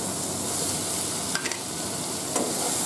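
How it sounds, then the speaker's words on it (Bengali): Fried eggs being stirred into sizzling masala in a pan, a steady close frying hiss with a couple of brief utensil scrapes standing out against it. "মশলার সাথে ডিমগুলো একটু নেড়ে চেড়ে"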